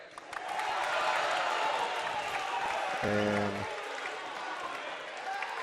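A basketball crowd in a gym, Independence fans, roars in a broad sustained swell of disapproval at a referee's call, with a commentator's voice running over it and a brief horn-like tone midway.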